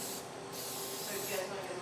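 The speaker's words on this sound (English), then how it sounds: "And so I am going to make sure I spray them completely." Cooking spray hisses onto metal English muffin rings in one short, fairly quiet continuous burst.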